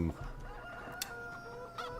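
Chickens clucking and a rooster crowing in the Pacific Northwest Farming Simulator 17 video game, a steady nearby farmyard chorus with a brief sharp click partway through.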